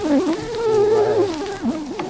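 Honeybees buzz around a newly set-up hive, a steady droning hum with a wavering pitch that rises and dips, close and continuous with no voices.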